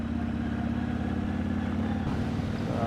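A Yamaha MT-01 motorcycle cruises at low RPM on a mountain road in Hakone, Japan, its engine a steady, loud, deep throb with a constant pitch and no revving.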